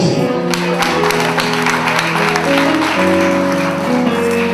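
Church congregation applauding during a worship service, dense steady clapping and crowd noise blended with music and sustained organ or keyboard tones throughout.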